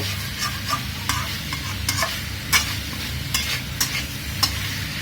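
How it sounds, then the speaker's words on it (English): Pork pieces for a Mangalorean pork curry are stirred and browned in a pan, with repeated scraping strokes of the spoon over a continuous close sizzle. "So just go on stirring. Make sure it gets a good stir."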